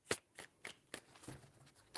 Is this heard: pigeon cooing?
no